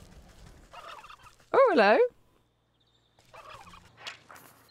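An aggressive turkey in the video game Wytchwood lets out one loud, close, warbling gobble, set between short bits of quiet speech from a player.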